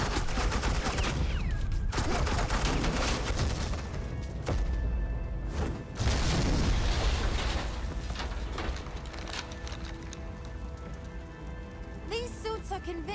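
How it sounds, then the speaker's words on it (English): Sustained suppressing gunfire in Batman: The Enemy Within, a dense continuous crackle of shots over game music and effects, with a voice speaking over it. "suppressing fire."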